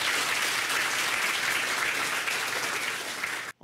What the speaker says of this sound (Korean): KNU 글로컬 추진단 출범식을 힘찬 박수와 함께 시작하도록 하겠습니다